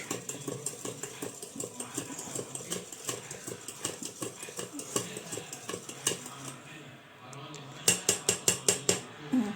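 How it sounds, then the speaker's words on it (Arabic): A large spoon stirs ammonium bicarbonate into milk in a pot for Eid sweets, making rhythmic, close metallic scrapes and clinks, about two per second, that briefly soften and then return sharper. "معلقة كبيرة نشادر نحطها على اللبن ونقلب"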